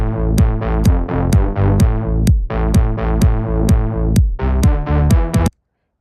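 Electronic track where a synthesized bass line joins a drum pattern, loud and steady, with sharp regular percussive hits over sustained low bass notes for about five seconds before stopping abruptly.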